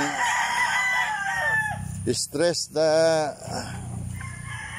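Backyard chickens in a small rainy-season coop in Bicol cluck, and a rooster lets out a loud, nearby cock-a-doodle-doo crow partway through, with someone talking over the birds at the start.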